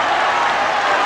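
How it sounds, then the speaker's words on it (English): Boxing crowd at the Muhammad Ali versus Ken Norton fight, 1973, roaring and cheering in a dense, steady wash of noise with no pause, close and loud throughout. "The crowd urging Ken Norton, perhaps many of them urging Ali"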